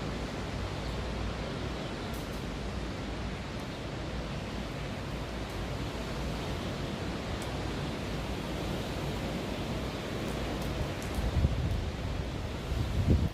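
Steady, dense hiss of heavy rain mixed with gusting wind near a river in Canada, constant and enveloping, with slightly stronger gusts near the end; no voices.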